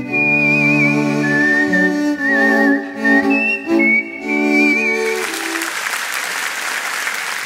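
A stage whistler performs a bright, melodic whistled tune with shifting pitches for several seconds before an audience breaks into loud applause.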